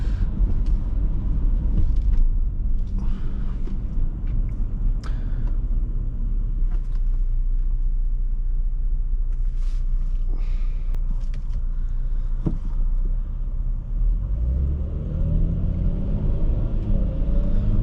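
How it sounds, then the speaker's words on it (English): Interior road noise in a 2012 Hyundai Santa Fe Limited V6 while driving, a loud continuous low rumble with airy wind hiss and occasional bumps, steady throughout. "there is prevalent wind noise coming in."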